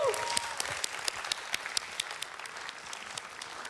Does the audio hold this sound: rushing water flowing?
no